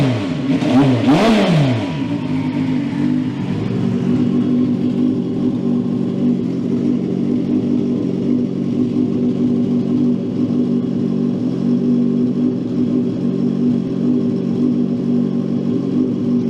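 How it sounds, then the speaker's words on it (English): An 800 hp go-kart engine held on a two-step launch limiter: an opening rev that climbs and falls, then a loud, steady, rough rumbling burble close by. "Look, I'll give it a hit and we'll show you on the 2-step of how it sounds."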